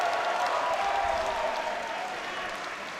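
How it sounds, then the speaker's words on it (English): Spectators at a professional squash match at the Oracle Netsuite Open applaud after a rally, a sustained wash of clapping from the crowd that holds steady and tapers slightly. "Crowd getting behind Rodriguez in that rally."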